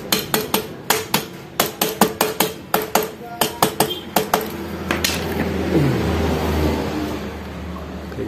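Honda Beat FI scooter engine being fitted in a workshop, with about twenty quick close metallic hammer taps in an even rhythm, then a car engine revving and fading in the background.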